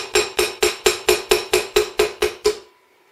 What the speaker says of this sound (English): we're going to take our punch pin, sit it on top of there, and our little hammer or whatever